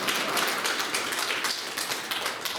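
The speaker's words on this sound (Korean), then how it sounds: "박수 한번 하겠습니다." A church congregation claps together, a dense, even patter of many hands filling the room for a couple of seconds with no voices over it.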